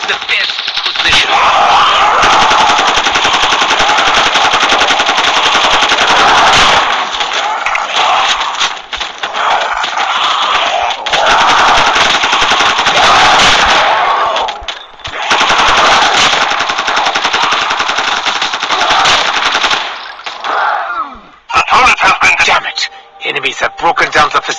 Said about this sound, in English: I've added ether energy parameters to the turret's auto-aiming system, so it can automatically target these creatures.